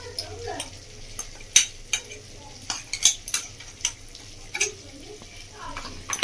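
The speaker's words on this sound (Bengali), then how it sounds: "ভালো করে মিশিয়ে নেব দইয়ের সাথে" A spoon stirs ground cashew-peanut paste into whisked sour yogurt in a bowl, giving soft scraping sounds broken by a few sharp clinks against the rim, with faint background hum.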